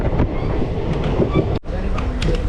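A train rumbles and clatters loudly on the rails arriving at platform three of Thrissur railway station, with faint squeals and clicks, and voices murmur faintly under the noise.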